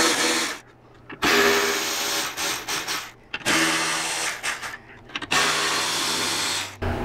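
A power ratchet with a long 3/16 Allen bit removes bolts on a Harley-Davidson Road Glide, giving loud, close whirring bursts of a second or two separated by short pauses, with no talking.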